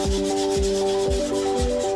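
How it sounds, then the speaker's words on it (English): Steady rhythmic light sanding of an old piece of furniture with sandpaper, four even back-and-forth strokes with a scratchy rasp, close and continuous, no voices. "I'm gonna do a light sanding"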